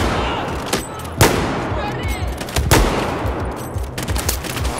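Gunfire in Battlefield 4 on Xbox One: sharp, loud shots and short bursts crack in an irregular rhythm over dense background battle noise.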